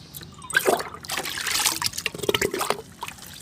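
Liquid banana fertilizer poured onto the base of a potted plant, a faint close trickle and dribble of liquid lasting a few seconds, with soft splashing.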